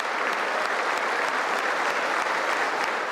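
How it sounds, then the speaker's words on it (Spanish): Sustained, dense applause from Democratic and Republican members of Congress on their feet, a steady roar of many hands clapping at once with no gaps across the whole stretch. "unió al unísono en aplausos y de pie a congresistas demócratas y republicanos"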